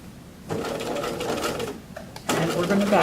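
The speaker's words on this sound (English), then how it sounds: "Now we're going to sew around the cuff." A sewing machine runs in two short bursts while stitching a cuff onto a sleeve, its steady mechanical whir heard under a person's speech.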